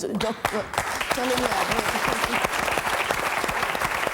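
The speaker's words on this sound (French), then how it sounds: "On vous applaudit" Audience applause at a French talk show or interview, a sustained burst of clapping from a crowd that swells after a brief pause and carries on steadily, with some voices mixed in.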